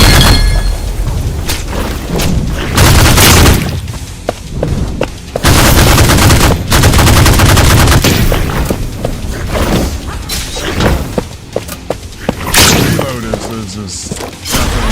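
Weapon fire in the roguelite shooter Holy Shoot: repeated loud bursts of rapid gunshots with booming impacts, broken by short pauses, with a voice talking in between over about fifteen seconds.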